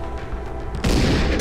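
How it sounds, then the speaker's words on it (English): A shotgun blast in the zombie survival game Dead Age, a single loud, close boom that cuts in abruptly after a low, quiet lead-in and rings on to the end. "I'll use a shotgun."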